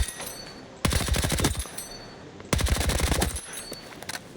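An MP5 submachine gun in Battlefield 6 fires two long, fast automatic bursts, loud and close, with a short pause between them and quieter background noise around them.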